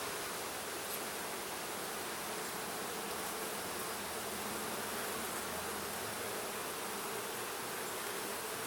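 A dense, steady buzzing hum of bees fills a beehive as they build comb, loud and close throughout with no talk.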